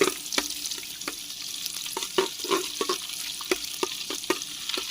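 Butter sizzles in a pan for pav bhaji over an outdoor camping setup, a close, steady hiss broken by irregular sharp crackles and utensil taps, with no voices.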